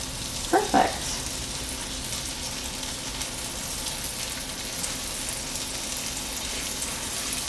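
Pork tenderloin sizzles and fries steadily in a hot pan, a constant close hiss throughout with a couple of brief clinks near the start.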